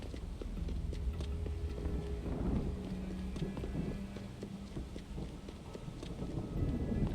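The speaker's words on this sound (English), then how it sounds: "It looks like there's a little bit of rain sprinkled." Light rain in the video game Deus Ex: Human Revolution, a steady soft hiss with low rumbling ambience throughout, fairly faint and with no talking.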